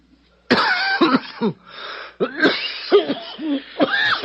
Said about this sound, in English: That's a wicked cough